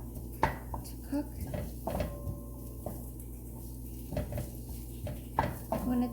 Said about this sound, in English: Garlic takes a really short time to cook.